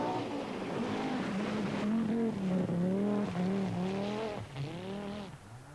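A rally car powers through a forest stage of the 1986 Welsh Rally, its engine note rising and falling loudly through repeated gear changes as it accelerates away, with no talk.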